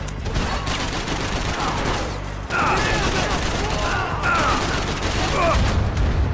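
Rapid gunfire bursts and mechanical clatter from the video game Max Payne 3, dense volleys running almost continuously with a brief break midway, loud and close, with a player talking over parts of it.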